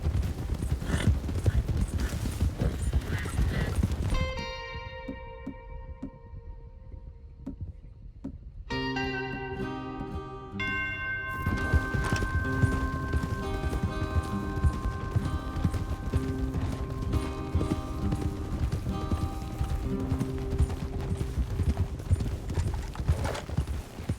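Horses gallop with rapid, rhythmic hoof clip-clop in the video game Red Dead Redemption 2. A short break in the middle brings tonal musical effects, and then the galloping returns steadily, loud and close.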